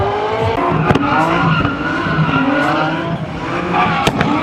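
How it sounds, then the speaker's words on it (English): Supercharged Scion FR-S racing at a drift event, a loud engine note with a thin supercharger whine and tire squeal, sharp pops cutting through the steady roar. "It's supercharged too. You can hear a little whine."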